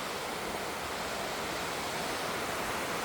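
Steady broadband rush of the San Antonio waterfall on Mount Baldy, California, heard at roughly 6,500 feet in mild weather; a constant, dense roar of falling water with no other sounds.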